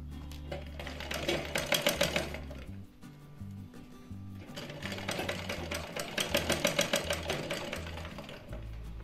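A sewing machine stitches the pleats of a kids' party-wear lehenga. Two bursts of rapid, rhythmic stitching each last a few seconds, separated by a short pause, and the sound is close and moderately quiet with no talk.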